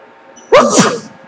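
A person sneezes once, a sharp, loud burst with a brief intake before it, close up in an otherwise quiet room.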